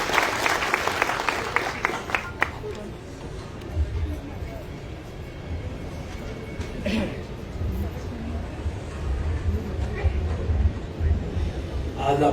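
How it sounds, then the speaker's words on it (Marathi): An audience at a panchayat samiti meeting in Maval applauds the newly announced chairperson and deputy, clapping loudest at the start and then fading into crowd murmur and talk. "सर्वांनी टाळ्या वाजून या दोघांचे सन्मान करा."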